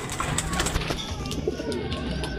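Racing pigeons give soft, close cooing calls over a steady outdoor background murmur, with a few light flutters and faint voices nearby.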